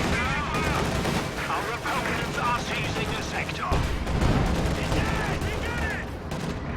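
Tank gunfire aimed at a Panther in the Company of Heroes 2 strategy game, several booming shots and impacts amid battle noise, with a voice talking over it.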